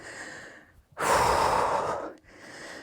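Heavy breathing while recovering from skipping rope exercise: a quiet breath, then a strong, rushing exhale lasting about a second, followed by softer breathing close to the mic.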